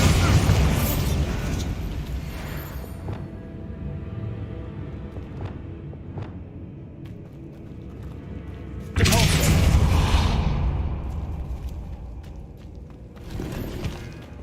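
Bombarda explosion spells from the Hogwarts Legacy video game, two loud booming blasts with long rumbling decay, the first at the start and a second sharp burst midway, followed by a smaller thump near the end.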